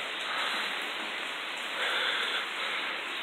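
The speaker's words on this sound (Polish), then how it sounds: "Nastała mi masakryczna ulewa." Heavy rain pours down over a meadow in a violent downpour, a dense and steady hiss with no talk.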